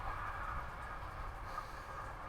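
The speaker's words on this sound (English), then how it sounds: "That train must follow me everywhere." A train passes nearby in Europe, a steady low rumble with a metallic mid-range hum that stays constant and fairly faint throughout, with no talking.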